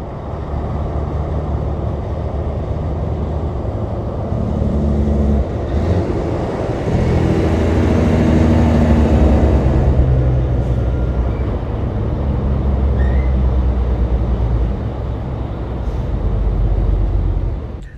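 An older semi truck on an 8-bag air-ride suspension cruises down the highway, heard from inside the cab as a loud, continuous engine drone and road rumble that rises slightly midway through.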